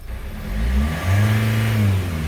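A car engine with a faulty injector revs up from idle, its low hum rising into a louder, climbing drone heard close, with no one talking.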